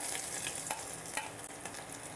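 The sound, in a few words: black pepper and chopped ginger frying in a pan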